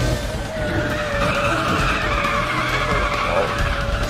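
Car drifting with skidding tires in the racing video game Need for Speed The Run, a steady loud screech with engine roar running through the whole stretch, no talk.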